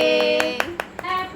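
A child claps hands at a Father's Day celebration at home, five or six quick, close claps at an even pace over a sustained background tone.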